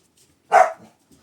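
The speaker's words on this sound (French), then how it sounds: "vous entendez les chiens, mais alors déjà, ils gueulent" A single short, sharp dog bark rings out close and loud in an otherwise quiet indoor room, followed by a faint trailing yelp.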